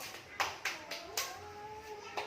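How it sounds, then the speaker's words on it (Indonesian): Students clapping in a classroom, a short series of distinct, sharp hand claps with irregular spacing. The claps sound close and dry, with a faint tonal hum underneath and no speech. "tepuk tangan dulu untuk kita semua"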